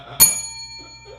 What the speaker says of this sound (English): That's how I need to hit that damn bell.